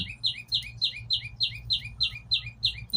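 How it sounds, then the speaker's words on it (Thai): Birds chirp in quick repeated bursts, a steady rhythmic series of high tweets over a low rumbling background. "เสียงนกร้อง"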